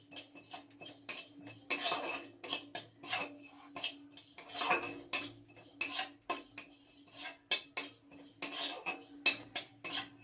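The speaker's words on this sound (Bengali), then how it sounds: "অল্প একটু পাঁচ ফোড়ন মানে যেরকম চাটনি করবে সেই রকম পরিমাণ ফোড়ন দিয়ে শুকনো খোলায় ভালো করে এটাকে নেড়ে নেবে" Panch phoron spices stirred in a dry pan over low gas, the spoon clinking and scraping against the metal in quick irregular bursts, close but quiet, no voices.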